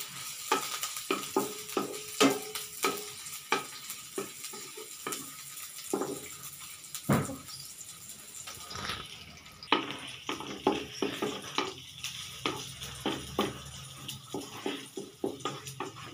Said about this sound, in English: Heat the oil for 20 seconds. Then put the onion and the garlic.